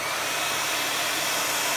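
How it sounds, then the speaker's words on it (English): A blow dryer runs steadily over thick coffee used as paint on an art piece, a close, even, high-pitched whoosh of airflow with no break. "The blow dryer will also make the line stay."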